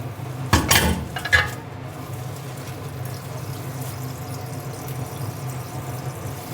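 Fried potatoes and onion being stirred in a pan with leftover frying oil, two brief clattering scrapes of utensil against pan near the start, then a low steady background hum with no talk.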